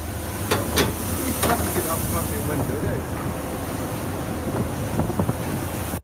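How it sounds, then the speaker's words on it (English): A fishing trawler tossed by heavy North Atlantic seas: loud, continuous roaring wind and surging wave noise, with a few sharp knocks early on and a sudden stop at the end. "a fishing trawler gets tossed around"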